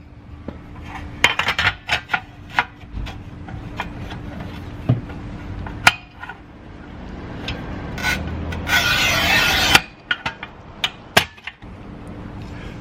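A manual tile cutter scoring and snapping a 4x12 white ceramic tile: scattered taps and clicks, then a long harsh rasping scrape of the wheel across the glaze, followed by sharp cracks as the piece breaks.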